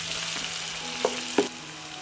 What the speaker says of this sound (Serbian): propržit ću crni luk, dodajem beli luk i sve ću pržiti dok luk ne omekša